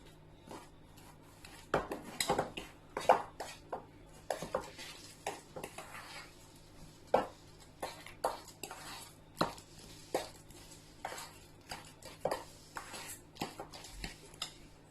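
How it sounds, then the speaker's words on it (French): Two bananas mashed with a fork in a bowl, irregular close clinks and taps of metal on dish at a busy, uneven rhythm, moderately faint, with no talk. "je vais prendre 2 bananes que je vais écraser"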